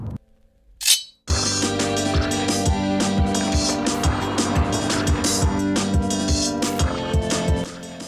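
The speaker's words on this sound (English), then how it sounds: "The non-vocal engine finally finds a voice, although the sound is pumped into the cabin" A Peugeot 308 GTi engine in sport mode, sound piped into the cabin, hums steadily with layered tonal harmonics, punctuated by repeated sharp clicks, after a brief whoosh at the start.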